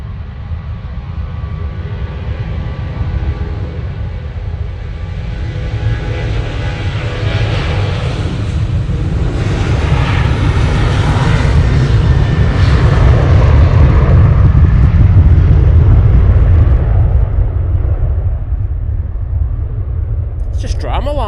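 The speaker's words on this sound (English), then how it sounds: "So Ian Livesey saying, flaps in the TUI stuck in a low position than normal for landing" A TUI airliner landing at Manchester Airport with its flaps stuck lower than normal roars in a heavy, broad rumble that swells to a peak and then slowly fades. A person talks over the engine noise.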